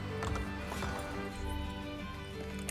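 Horse hooves galloping in a rhythmic clip-clop outside a city in the video game Assassin's Creed Brotherhood, steady and fairly close over a continuous game background mix.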